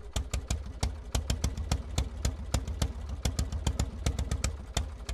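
An early engine built by Carl Benz, first run in 1879, chugs in a steady rhythmic series of sharp firing knocks, close and moderately loud, with no talk over it.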